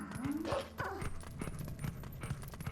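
Wolf Link, the dog form in the Zelda game Twilight Princess, gives a few short barks and yips along with quick pattering footsteps, all close and fairly loud.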